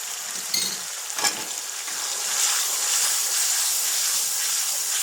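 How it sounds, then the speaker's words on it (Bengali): Spices fry with salt and turmeric in a pan, producing a steady, hissing sizzle with a brief scrape of stirring early on, then an even, close crackle that carries on to the end. "মশলাটা অনেকক্ষণ ভেজে নিতে হবে"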